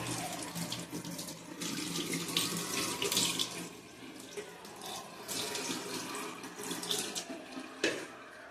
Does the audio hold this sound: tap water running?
yes